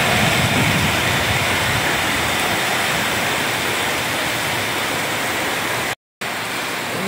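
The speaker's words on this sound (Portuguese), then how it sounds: "Olha que chuva abençoada." Heavy rain pours steadily in Itumbiara, Goiás, in the evening, a loud, dense, unbroken hiss that is cut by a brief gap near the end, with no voices.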